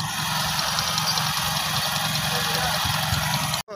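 A motor running steadily while pumping water in a village, a continuous loud droning hum with water noise throughout, cutting off briefly near the end.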